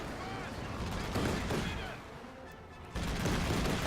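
MG42 machine guns fire in a Company of Heroes 2 battle against tanks, with rattling bursts and booms rolling through the mix. A voice talks over the gunfire, and the noise drops briefly before surging back.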